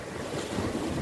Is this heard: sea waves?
yes